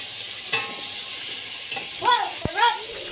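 Garlic, onion and tomato sauté in a pan for shrimp sinigang, giving a steady hiss of frying with a few soft stirring knocks, while a voice speaks over it in places.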